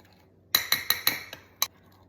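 A utensil clinks sharply against a bowl while flour, cornstarch and seasonings are mixed, giving four quick, evenly spaced taps, a softer fifth, then one more after a short pause, all close and clear with no talk.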